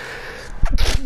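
A single close, sharp sneeze bursts out over a low background hum, with a short intake of breath just before it.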